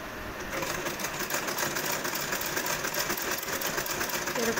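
A sewing machine runs in one continuous rapid stitching burst, gathering pleats into scrap fabric for children's pants with a presser foot attachment; the mechanical whir sits close and steady after a brief quiet start.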